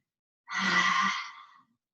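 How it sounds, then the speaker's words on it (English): A single forceful breathy exhale lasting about a second during a yoga lion's-breath exercise, loud and close, tapering off into silence. "3 lion's breaths. Really let it out on your exhale."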